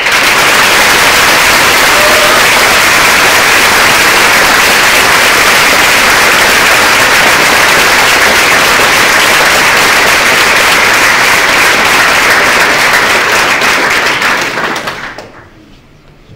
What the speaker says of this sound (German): bitte den größtmöglichen Applaus für alle, die uns unterstützt haben